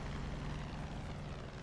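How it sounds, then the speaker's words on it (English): Steady droning rotor and engine noise of a helicopter in flight in the video game Far Cry 5, constant and moderately distant, with no voices. "That is a helicopter."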